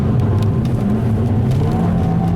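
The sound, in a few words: front-wheel-drive car wheel spin on wet road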